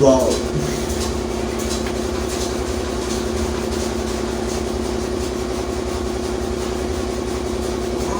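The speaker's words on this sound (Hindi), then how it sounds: "यहाँ पे ये बैकग्राउंड में जो इंजन का चल रहा है" An engine runs steadily in the background with a low, continuous hum and rumble for the whole stretch, while someone talks over it.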